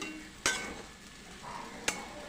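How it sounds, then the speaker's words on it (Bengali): Potatoes fry in oil with peanuts, green chili, coriander leaves, curry leaves, salt and turmeric, giving a soft steady sizzle broken by two sharp scrapes of a stirring utensil against the pan. "আমি আলুটা একটু তেলের মধ্যে ভাজা ভাজা করে নিচ্ছি"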